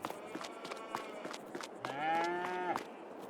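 Cattle in a farm-building game give a long, clear moo while being fed, with faint clatter and scattered clicks of the farm scene around it.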